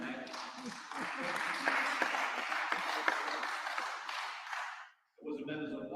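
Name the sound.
audience applause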